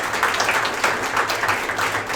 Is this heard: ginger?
no